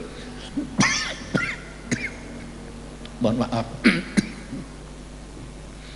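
A person with a three-week cough coughs repeatedly in short, harsh bursts close to the mic, with a few spoken words and faint background hum between the coughs.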